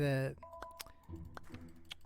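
Quick light clicks of a computer mouse during a thought experiment simulator game, several sharp taps scattered over a quiet background after a brief voice at the start.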